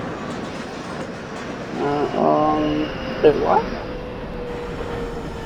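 Subway train of the F line running in the Openbve train simulator video game, a steady hum and rumble with tonal whines rising midway, while a person briefly talks over it.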